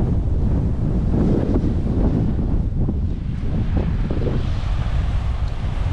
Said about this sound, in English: But still, it's really windy.